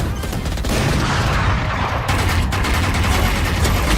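Dense, continuous gunfire from a tactical shooter video game, loud rapid shots and bursts packed together with no pause.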